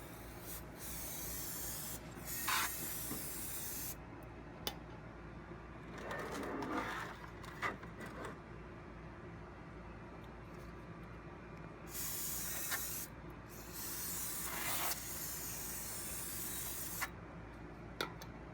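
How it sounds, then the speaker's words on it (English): Bursts of brake cleaner spraying onto new rear brake rotors of a Trailblazer/Envoy to strip their protective anti-rust coating, several hissing sprays of a few seconds each separated by quieter gaps. "Remove the coating with brake cleaner."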